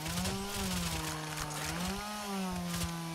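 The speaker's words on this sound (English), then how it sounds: "Okay, chainsaw time." A chainsaw revs in the ZedFest zombie shooter game, a continuous buzzing engine drone whose pitch rises and dips as it is worked, with no one talking.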